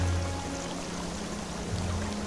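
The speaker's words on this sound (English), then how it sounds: "This whole thing's filling up with water." Water rushes and pours steadily into a sealed space trapped under thick ice, giving a continuous low churning flow with a deep hum beneath it.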